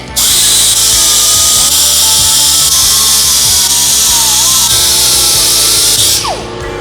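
An air grinder smooths a Harley-Davidson Sportster frame with a loud, continuous high-pitched whir that holds for about six seconds, then cuts off and winds down.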